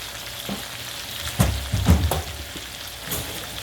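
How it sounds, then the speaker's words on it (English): Garlic-powdered shrimp sauté in a hot pan, giving a crackling sizzle with a few louder bursts as they are stirred and tossed, up close over a few seconds. "Now we're gonna saute these up"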